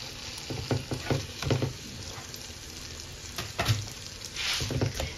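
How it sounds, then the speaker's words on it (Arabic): Garlic cloves sizzle and fry in butter in a pan, with a steady crackle and occasional stirring scrapes, heard close and alone. "غنزيد هنا واحد جوج دريسات ديال الثومه ونخليهم يتشحروا مع هاد الزبيده"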